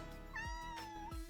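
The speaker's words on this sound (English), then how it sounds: "Cat." A cartoonish cat in the video game Minami Lane gives a single clear, rising-and-falling meow over soft background game music.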